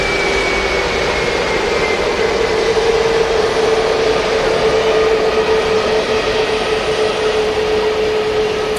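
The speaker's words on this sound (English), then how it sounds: "There is an EasyJet A320 Neo taxiing past at the moment." An EasyJet A320neo airliner taxiing at Manchester Airport gives off a steady, loud jet engine whine and roar that holds constant and close throughout, with a high tonal hum over broadband rumble.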